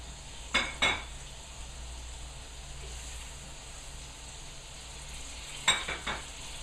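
Scallops searing in a very hot pan, giving a steady broadband sizzle with a few brief clinks of a pan or utensil near the start and end, no talking.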